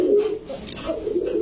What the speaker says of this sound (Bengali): পুরান জাতের বাঘা কবুতর।